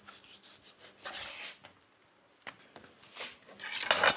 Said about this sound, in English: I'm just gonna cut the meat into 1/2-inch slices